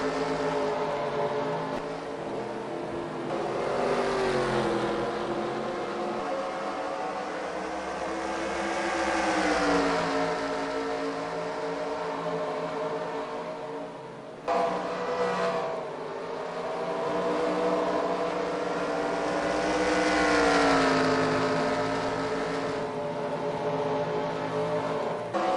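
Race cars at the 2001 Hardees 250 roar past in long rising and falling engine waves, two big passes swelling and receding with a sharp break between them, loud and continuous, no talk.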